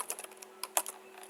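Code being typed on a computer keyboard: a quick, close burst of about a dozen light key clicks in an uneven rhythm over a faint steady hum.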